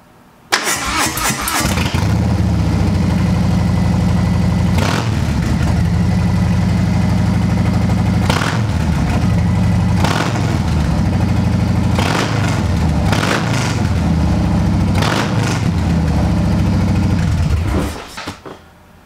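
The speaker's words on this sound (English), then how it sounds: "I guess we can go ahead and turn the bike on just to make sure it works." A Harley-Davidson Low Rider S motorcycle, fitted with an S&S air cleaner, starts with a brief crank and then idles with a loud, rumbling, uneven lope, with periodic throttle blips, before it shuts off at the end.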